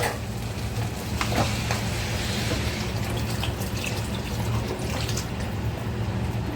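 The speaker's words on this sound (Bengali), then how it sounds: "এখানে জল দিয়ে দেবো" Water poured into a pot of khichuri made with Gobindobhog rice and lentils already mixed with spices: a steady, close rushing splash that holds without a break, with no talking.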